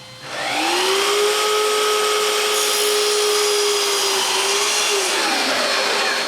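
A saw motor spins up to a loud, steady whine while cutting a walnut clock frame, holding its pitch for several seconds before briefly dipping and winding down.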